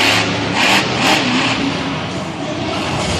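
Monster truck engine at a Monster Jam event in San Diego, a loud sustained roar with a couple of revving surges, heard over a busy stadium crowd.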